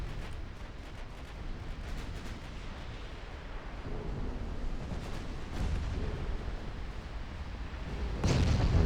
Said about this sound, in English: And the torpedoes from the destroyers are now starting to hit.